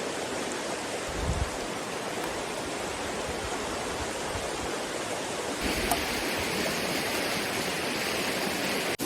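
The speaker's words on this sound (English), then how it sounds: "It was nice and refreshing just to sit here peacefully and to enjoy the creek." A cold creek in the Hoh Rain Forest of Washington flows steadily, a full, close rushing and babbling of water with a few low thumps and no voices.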